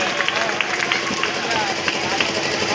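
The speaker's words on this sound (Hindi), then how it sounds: "आप तालियों की गड़गड़ाहट से इनका भी स्वागत करें।" A crowd at an open-air public rally in a Durga temple courtyard in Darbhanga claps steadily to welcome a speaker, the scattered claps mixed with crowd murmur and a voice talking over them.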